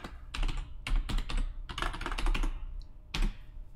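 Rapid clattering keystrokes on a computer keyboard entering a password, in uneven bursts with short pauses, close and fairly loud with no talking.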